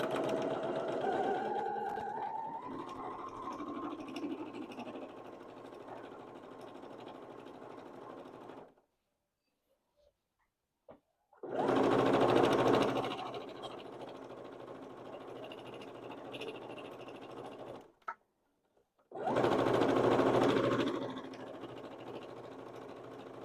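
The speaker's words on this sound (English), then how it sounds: "we're going to do a top stitch all the way across the top edge of the apron." Sewing machine top-stitching along the folded top edge of a fabric apron, a steady rapid mechanical whir in three runs separated by short silent pauses, close and alone.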